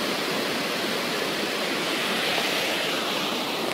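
Water of the Yegualasco river, seen from a bridge, rushes and churns over rocks and pools in Veracruz, giving a steady, dense broadband roar with no pauses and no voices.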